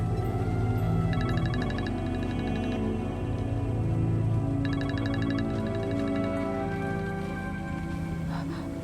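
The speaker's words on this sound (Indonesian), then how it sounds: "Bu, ada telepon dari Ashanti" Telephone ringing indoors during a scene from the Indonesian TV drama Cahaya Cinta, heard as two bursts of repeated electronic trills over a continuous bed of music and background sound.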